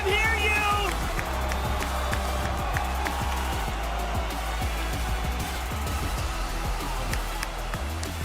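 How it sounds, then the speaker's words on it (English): Large esports arena crowd at the Fortnite FNCS finals cheers and roars as a sustained wash of noise, with bursts of clapping under an amplified host's voice. "Crowd, make some more noise!"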